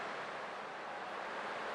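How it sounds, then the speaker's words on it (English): Ocean waves wash in a steady, even roar behind a Honkai Star Rail cutscene, continuous surf with no breaks and no talking. "I can still clearly hear the sound of the waves."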